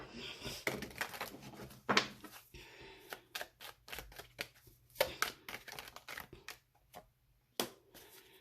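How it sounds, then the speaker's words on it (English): A Kipper card deck being shuffled by hand: dense, quick riffling and flicking bursts of cards, close and moderately quiet, with brief pauses between shuffles and no talk. "I just started, like, shuffling the Kipper deck."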